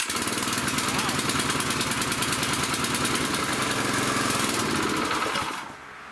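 The engine of a damaged, shipped air compressor runs steadily with a loud buzzing, rattling drone for several seconds, then abruptly drops to a quieter idle near the end.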